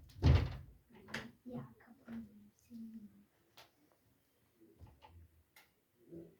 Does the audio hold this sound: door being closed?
yes